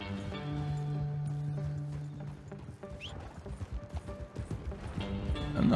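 Horse hooves clip-clopping in Red Dead Redemption 2, a steady rhythmic trot emerging midway over game ambience and a low sustained tone, fairly close and moderately loud.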